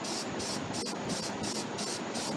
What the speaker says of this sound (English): shake this up like you would any can, like a WD-40 or just any spray